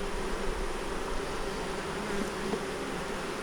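Honey bees in an opened hive during an inspection make a dense, continuous buzzing drone, close and steady, with no talking over it.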